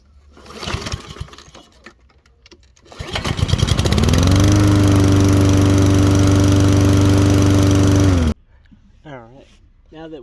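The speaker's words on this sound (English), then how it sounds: "it's a good practice to run your engine for a few minutes just to warm up the oil" A Toro push mower engine starts and settles into a steady, loud idle for several seconds, running to warm its oil, then cuts off abruptly. A voice is heard briefly after it stops.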